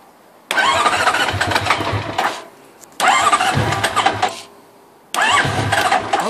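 A Honda VFR1200 motorcycle with starting problems cranks in three loud, close bursts, each a whirring turnover of a couple of seconds separated by short pauses, without catching.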